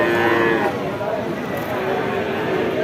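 Cattle at a large cattle market in south Bengal moo loudly and close by, with a drawn-out low call against busy crowd noise and people talking.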